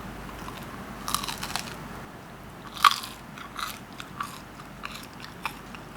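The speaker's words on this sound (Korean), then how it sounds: "딱 이렇게 물면은 아삭 소리가 날 만큼 겉은 바삭한데 속은 쫄깃하거든요" Someone bites into crispy salt bread, the crunchy crust giving a few close, sharp crunches followed by soft chewing, quiet and without talk.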